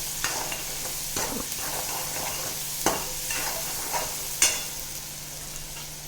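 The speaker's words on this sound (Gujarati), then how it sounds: "આ વઘારને આપણે 2 થી 3 મિનિટ માટે થવા દેવાનો છે." Turmeric tempering frying in a pan for a dry potato dish, a soft steady sizzle with a few scattered stirring knocks and clicks, close by and moderately quiet, with no voices.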